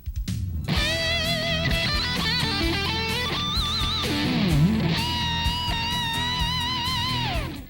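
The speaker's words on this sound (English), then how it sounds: "Here's the sound of the guitar with the Cosm processing." Electric guitar run through a Roland VS-1680's COSM preamp and speaker modelling, heard as sustained melodic lines with bends and slides over a steady accompaniment, loud and continuous, with no voices.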